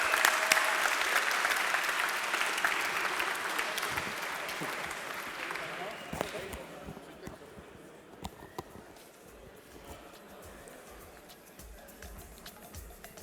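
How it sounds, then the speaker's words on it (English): Audience applause at a live banking hackathon awards event, loud broadband clapping for about six seconds that then fades into scattered claps and murmuring room noise. "Applause."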